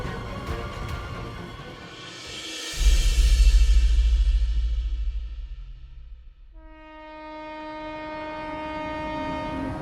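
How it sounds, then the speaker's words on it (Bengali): Passing train as an audio-drama effect: steady rail rumble and clatter, then a loud close roar as carriages pass, fading before a long sustained horn blast. "ট্রেন চলতে থাকলো তার নিজের গতিতে।"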